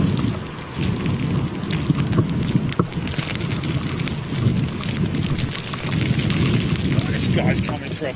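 Steady heavy rain during a storm at Heathrow Airport, a dense continuous wash of close patter with low rumbling underneath, running unbroken throughout.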